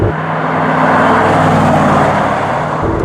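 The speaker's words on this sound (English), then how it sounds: "I don't know that I've ever been in a car that accelerates so quickly at half throttle." Accelerating at half throttle, a Mercedes SLR supercar gives off a loud, sustained engine roar with low droning tones that hold steady and then ease slightly near the end, with no voices.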